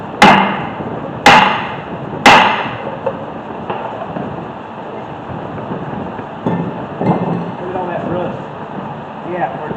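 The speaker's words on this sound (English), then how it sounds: "Now I have to take the hammer and remove it." Three sharp, loud hammer strikes land early on a seized brake rotor of a 2018 Hyundai Santa Fe during a front brake job, followed by quieter clanks and workshop rumble.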